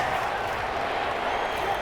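Home stadium crowd roars steadily at an NFL game, Green Bay Packers at New Orleans Saints in 2021 Week One; a dense, loud wash of noise and clapping continues unbroken throughout.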